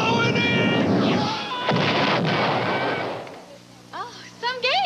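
Dense, loud blaster fire and explosions from the Star Wars arcade video game fill the first few seconds, then fade out into quieter electronic game tones and talk.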